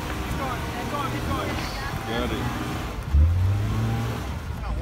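A 2018 Subaru Outback with the 3.6 liter H6 engine and CVT strains uphill off-road, its engine droning steadily then swelling louder near the end, heard close with someone talking over it.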